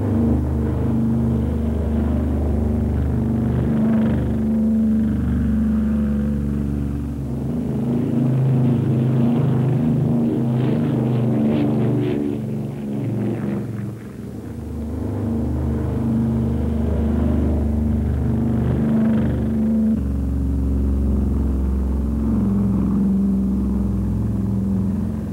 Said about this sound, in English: The giant planes hurtled down the runway right on schedule.